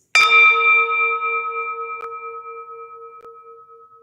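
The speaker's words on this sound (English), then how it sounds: "Just like the bell echoes and everyone are able to hear it because there is a vibration." A single strike of a meditation bell rings out clearly, then hums and fades in a long pulsing decay, alone in a quiet room.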